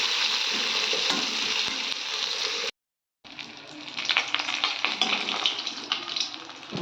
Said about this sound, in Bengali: তো মাছের মাথাটা আমি খুব ভালোভাবে ভেজে নিলাম